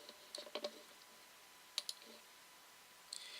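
Several sharp computer mouse clicks in quiet surroundings: a quick pair early on, another pair near the middle, and a faint final click, each short and crisp with silence between.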